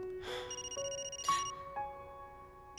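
A telephone rings with a few bright electronic tones in a rising and falling melodic pattern, clear and close in a quiet room with no talking.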